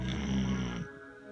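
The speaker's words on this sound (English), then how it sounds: "The snoring Vizsla." A Vizsla dog snores close by, one long rumbling, nasal breath lasting just under a second before tapering into quiet.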